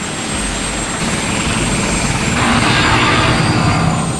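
A helicopter's steady rotor and engine drone runs continuously at moderate distance, loud and unbroken throughout with no speech over it.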